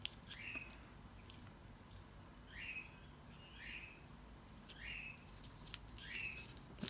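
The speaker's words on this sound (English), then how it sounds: "my bird going crazy in the background" A pet bird indoors gives repeated sharp, bright chirping calls at roughly regular intervals, moderately distant and faint against a quiet room.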